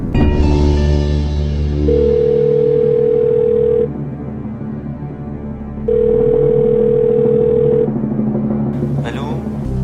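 Telephone dial tone and call signal tones heard while a TV game-show crew places a call, steady electronic tones switching on and off in blocks over a low hum, loud and close.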